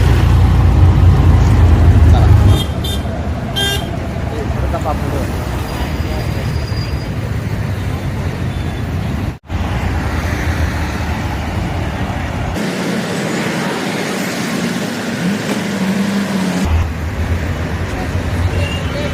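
Road traffic at a roadside bus stop near Kamothe, with a loud, continuous rumble of passing vehicles, heavy engines droning close by and shifting as they go past, and no clear talk.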